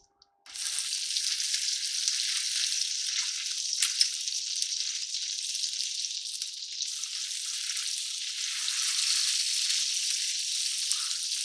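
Ham and cheese sandwiches sizzle on a Blackstone E-Series electric griddle, a steady close hiss of frying that starts abruptly and holds evenly throughout, with a few small pops and no talking.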